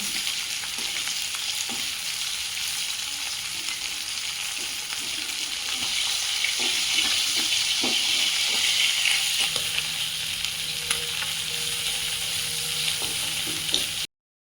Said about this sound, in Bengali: মাছগুলো লাল লাল করে ভেজে নিয়ে জোর করে নেব